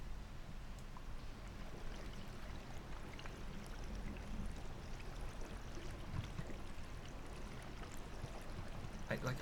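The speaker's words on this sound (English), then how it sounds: "I can hear the water moving" Flowing water in the game Conan Exiles, a steady broadband rush running continuously underneath, fairly quiet and even throughout.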